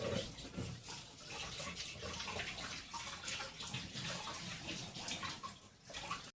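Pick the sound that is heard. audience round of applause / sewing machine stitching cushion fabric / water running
water running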